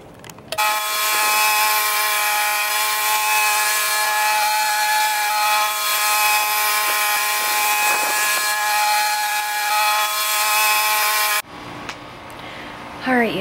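A push lawn mower engine drones loudly and steadily for about eleven seconds, then cuts off abruptly into quieter background noise.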